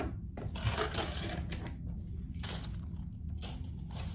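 A sewing machine stitches an oven mitt in short bursts of rapid mechanical whirring, separated by brief pauses and faint clicks, heard close and fairly quiet.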